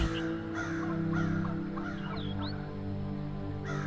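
Several harsh crow caws in quick succession serve as an effect in a horror story, heard over a steady low droning hum.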